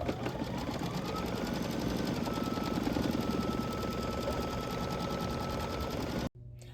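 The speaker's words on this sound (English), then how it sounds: "now it's just going to do the satin stitch around" An embroidery machine stitches a satin stitch around a tulip on quilt fabric, a fast even mechanical chatter running close and steady before stopping abruptly near the end, with no talking.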